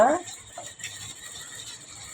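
A sewing machine stitches a lining around a churidar neck while the fabric is slowly turned, giving a soft, steady mechanical whirr and clatter that stays faint and even throughout.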